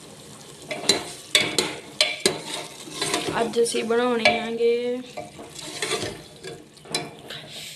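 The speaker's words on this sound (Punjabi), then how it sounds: "ਮੈਂ ਲਾ ਰਹੀ ਹਾਂ ਦਾਲ ਤੜਕਾ" Dal tadka tempering being stirred and fried in a pan, with scraping utensil strokes and clinks over a soft sizzle, while someone speaks and a brief high hissing burst rises midway.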